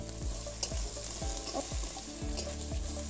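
Ginger, garlic and onion frying in a pan, a steady loud sizzle with repeated scraping stirs at a regular pace, close and without talk.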